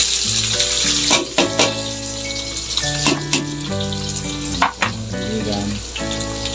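Onions fry in a pan with a constant bright sizzle, overlaid by music with sustained tones and a few short pauses.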